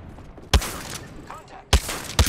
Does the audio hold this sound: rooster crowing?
no